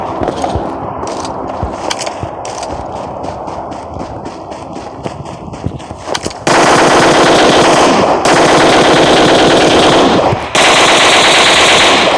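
Rapid automatic gunfire in the mobile battle-royale game PUBG Mobile, fast rattling bursts at first, then very loud sustained firing from about six seconds with short breaks between long bursts.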